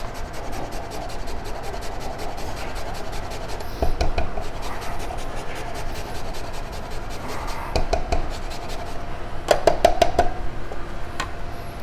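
Horseradish root is rubbed against a grater in steady, quiet rasping strokes, close up, with a few sharper scrapes along the way.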